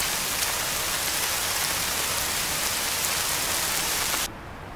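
Heavy rain pours steadily on Mount Roraima, a flat-topped mountain in one of the wettest places on Earth, a dense even hiss that fills the whole clip and drops away abruptly near the end.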